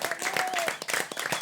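Applause from a French comedy show audience: a dense, continuous patter of many hands, fairly loud and close, with a brief high whistle-like tone riding over it.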